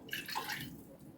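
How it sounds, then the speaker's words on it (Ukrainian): Water pours briefly into a pot of stuffed peppers in a soft, splashing rush that fades out within about a second. "Наливаю воду"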